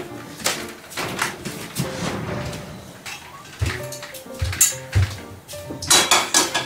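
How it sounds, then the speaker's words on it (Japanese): A metal saucepan and pans clatter and clank as they are moved around, with irregular knocks and scrapes close by. "湯がかなあかんから手鍋がいるんか。"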